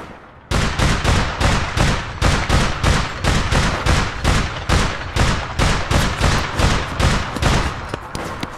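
Rapid automatic gunfire from the online shooter game APB Reloaded, a loud, close, continuous burst of evenly spaced shots lasting several seconds with no pause.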